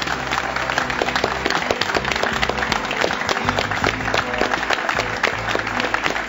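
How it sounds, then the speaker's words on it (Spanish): Sustained studio audience applause on an Argentine TV show, dense steady clapping filling the room alongside low music or tonal background throughout. "lo que vamos a hacer, un aplauso, porque están vivos"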